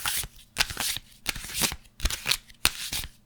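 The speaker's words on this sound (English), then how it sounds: "I'm gonna make a reading, so I'm gonna shuffle them." Tarot cards are shuffled in quick riffling bursts, about five rapid flurries separated by short pauses, close and crisp.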